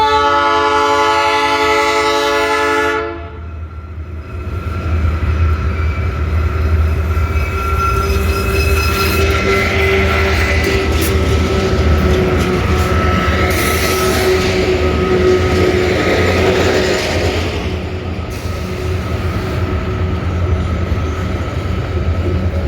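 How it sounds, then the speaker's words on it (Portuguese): Freight train horn blaring in long sustained blasts at the start, then the loud rumbling roll of rail cars passing close by for the rest, steady and heavy with a faint squeal, no voices. "Vamos esperar o trem."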